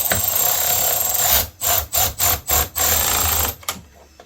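A nylon nut is tightened on the steering cable of a 2001 Gheenoe 15'6" Classic boat: a close, steady tool whir, then a run of several short, rhythmic bursts with brief gaps between them.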